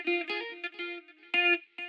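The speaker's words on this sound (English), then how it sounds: "And then I added this plucky rhythmic kind of guitar layer." A plucky, rhythmic guitar layer with effects in an R&B sample, short tonal chords played in clipped bursts with small gaps between them, loud and alone with no talking.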